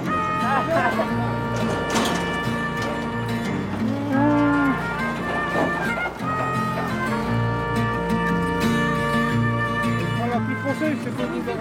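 Cows moo on a farm on the island of Ouessant, repeated long, low calls from several animals, loud and close, with people talking in between and over them.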